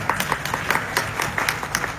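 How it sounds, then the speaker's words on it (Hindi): An audience at a Karni Sena rally claps in a dense, uneven patter of individual hand claps, moderately close and steady for a couple of seconds, without voices over it. "उनके लिए भी ताली बजनी चाहिए"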